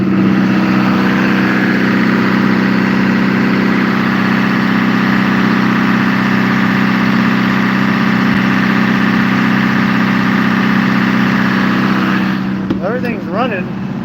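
A boat engine on an Alaska salmon gillnetter idles in a steady loud drone for a long stretch, with a voice briefly heard near the end.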